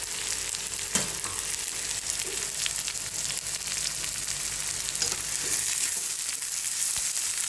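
Chopped onion for raw mango chutney sizzles steadily in a hot pan, a continuous close frying hiss with occasional scrapes and stirs, no voices.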